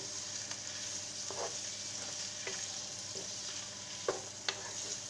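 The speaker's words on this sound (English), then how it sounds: "It's already cooked the sausage, but I want to let it become a little bit brown." Already-cooked sausage browning in a frying pan for spaghetti sauce: a faint, constant sizzling hiss with a few brief stir scrapes and small ticks near the end.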